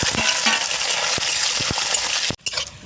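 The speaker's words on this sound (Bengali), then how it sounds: "ডিমগুলো খুব সুন্দর ভাজা হয়ে গেছে" Halved boiled eggs fry with turmeric in hot oil, a constant sizzle broken by several sharp clicks of a metal spatula against the pan and a brief pause near the end.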